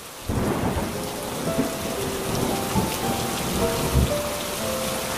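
Steady heavy rain drums on a leaky hut roof during a thunderstorm, with low rumbles of thunder rolling through and occasional louder thumps near the end, dripping water inside.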